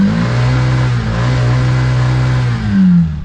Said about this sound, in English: Let's have a listen to the rickshaw revving.